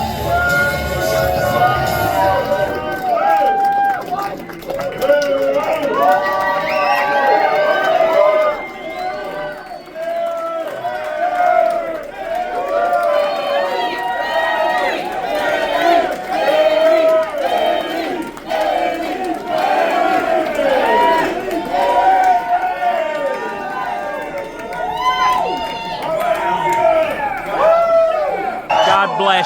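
A dense crowd at a political rally for Darren Bailey cheers and shouts continuously in a loud roar of voices, with many overlapping calls and chants and no quiet gaps.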